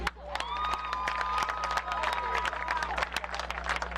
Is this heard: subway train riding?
no